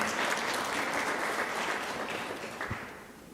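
An audience at a regional civics bee competition gives a round of applause in an auditorium, a full wash of many hands clapping that gradually thins and fades toward the end.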